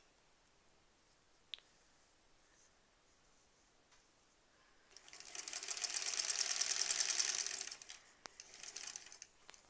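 Sewing machine stitching quilt block pieces together, a steady mechanical whir that rises and runs for a few seconds before stopping, with a few small clicks around it and no talk.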